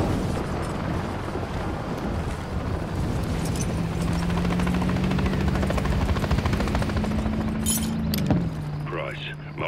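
A helicopter in the Call of Duty Modern Warfare III game sends out a constant, heavy rotor drone with a steady engine tone. Faint clinks and a distant boom sit under it, and a voice speaks briefly near the end.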